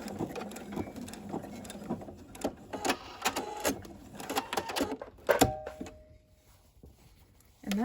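A sewing machine stitches a face mask made with hair ties in quick bursts of rapid mechanical clatter, near and moderately loud, with pauses and small handling noises between runs.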